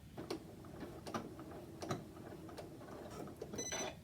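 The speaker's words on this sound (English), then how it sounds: "So I'm just going to hit my locking stitch." A sewing machine runs a short locking stitch through cork, giving faint, quick ticking clicks spaced irregularly in a quiet room.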